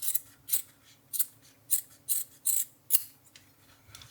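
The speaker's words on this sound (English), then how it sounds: "then you can just trim this shit off" Scissors snip thread on a denim jeans patch: about eight short, crisp cuts in an uneven rhythm, close and fairly quiet with no talk.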